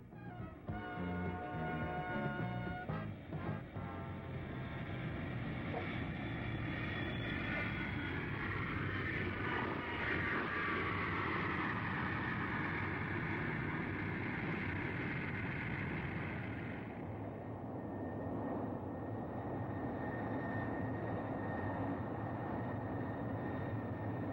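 A large aircraft arriving at Yanbu, a loud sustained jet engine roar with a whine that fades out after about sixteen seconds, leaving a lower steady rumble; no talking.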